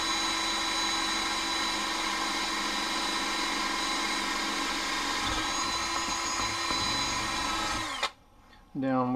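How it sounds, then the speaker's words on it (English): A power drill bores a set screw hole into an aluminum lightsaber hilt clamped in a vise, a steady loud whine that runs for about eight seconds before cutting out and spinning down. "Once the drill's taking a bite."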